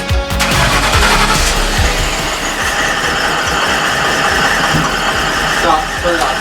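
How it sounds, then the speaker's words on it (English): Supercharged Lincoln Town Car engine, freshly fitted with an ADTR supercharger kit, runs loud and rough with sharp popping backfires throughout, a near, continuous mechanical roar. "Alright, I heard it backfire"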